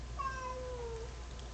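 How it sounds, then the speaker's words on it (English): A small rescue cat gives a single drawn-out meow from inside a crate, fairly close and moderately loud, falling in pitch over about a second against a low steady room hum. "that's my cat"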